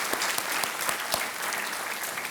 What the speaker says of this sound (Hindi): तालियों के साथ श्रीधर जी का स्वागत